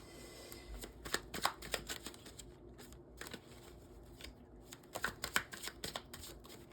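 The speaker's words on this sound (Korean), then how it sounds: "제가 카드 하나 더 뽑아볼게요" Tarot cards shuffle and snap close by in quick papery bursts, with a quiet pause before another run of riffling as a card is drawn.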